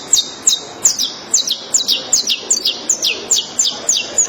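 A person whistles an imitation of the rufous-collared sparrow, a run of about fifteen sharp, high, descending chirps in quick, even rhythm, close and clear with no talking.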